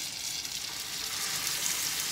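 Swai fillet frying in a frying pan gives a steady, close hiss and crackle of hot oil, continuous and without talk.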